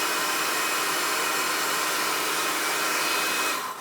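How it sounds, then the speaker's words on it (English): A trusty old Black & Decker heat gun blows steadily with a loud, even broadband whoosh that holds for several seconds before easing off at the very end. "I've got my trusty old Black & Decker heat gun. We'll warm it up a bit."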